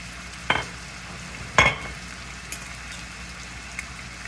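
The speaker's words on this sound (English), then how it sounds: "we're gonna add a couple of tablespoons of flour to the skillet to make that roux" Flour sprinkled into hot sizzling meat fat in a skillet for a roux, heard as two short scraping stirs over a low steady sizzle, with faint clinks later.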